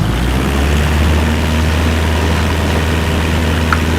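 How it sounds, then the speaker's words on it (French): A Cessna propeller engine in Microsoft Flight Simulator 2024 runs as power is applied, a loud, steady low droning hum with a constant propeller buzz that holds throughout. "Le moteur, on met la puissance."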